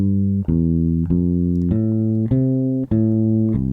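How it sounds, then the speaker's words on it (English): A bass guitar plays a root-position triad walking bass line through a 12-bar blues, with steady plucked notes in an even rhythm, each ringing into the next, played alone, close and clear. "So, simple root position triad walking bass line going through a 12-bar blues. Sounds like this."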